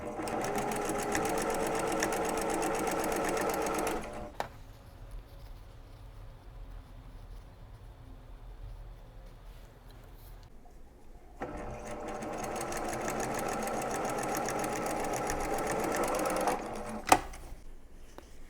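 A sewing machine stitches a quarter-inch seam joining fabric rectangles to a Christmas tree quilt block, running in a steady, close, loud hum for a few seconds, pausing, then running again with a final click.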